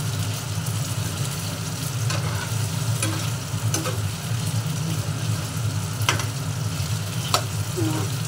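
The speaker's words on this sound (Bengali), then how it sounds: "এইভাবে দেখুন ভেজে নিতে হবে সয়াবিনটা।" Soybean chunks fry and sizzle steadily in a pan as they are stirred, a continuous close crackling hiss with occasional sharper scrapes of a utensil and a low hum beneath.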